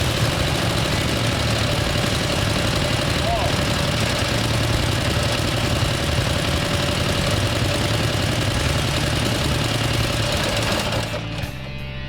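A 1918 Harley-Davidson motorcycle engine runs steadily and loudly at close range, a dense continuous mechanical chatter and knock throughout, cutting down slightly near the end.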